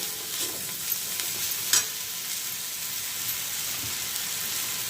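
Peas roasting in oil in a pan over a low flame, a soft continuous sizzle and hiss with a few brief scraping stirs, fairly quiet and without speech.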